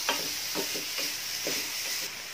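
Jaggery and coconut filling for modak stirred in a pan, about five regular scraping strokes over a steady hiss, close and moderately quiet without speech.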